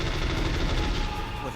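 FAMAS rifle gunfire in the video game Metal Gear Solid, a dense, loud burst of rapid automatic shots filling the whole short moment as a person talks.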